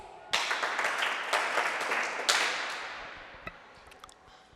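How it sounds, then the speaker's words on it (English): Applause breaks out at a primary school prefects' event, a sudden burst of clapping that swells twice and then thins and fades over a few seconds, with no voices over it. "A round of applause to Arthur and his team"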